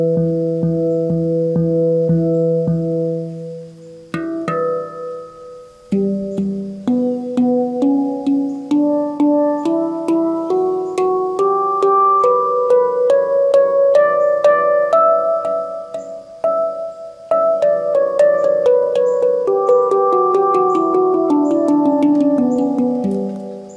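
A RAV Pan tuned to the E La Sirena scale, a handpan-like steel tongue drum, plays its notes one by one from low to high and back, each strike ringing and overlapping softly, with no one talking.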